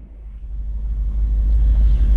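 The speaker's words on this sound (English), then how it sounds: "pulling out of the driveway, the truck has a nice little rumble to it" A 1965 Chevy C10 pickup with Flowmaster mufflers pulls out of a driveway, its exhaust giving a deep, loud, steady rumble that swells slightly as it moves off.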